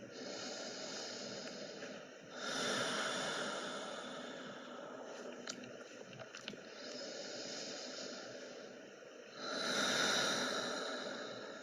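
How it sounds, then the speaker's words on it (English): Slow, deep breaths during a seated chair yoga session: a long airy inhale, a quiet pause, then another full hissing breath, close and soft, with no talking. "Take one more cycle of breath."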